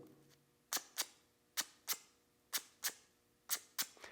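Two pieces of sandpaper rubbed together to imitate insects rubbing their legs, giving a series of short, sharp rasping scrapes in quick pairs, close and fairly faint.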